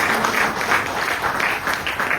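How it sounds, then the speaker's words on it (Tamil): Audience applause after an announcement at a Tamil business presentation: steady, dense clapping from a crowd that carries on evenly for the whole stretch without a break. "ஒரு பெரிய பாராட்டு கொடுங்க சாருக்கு."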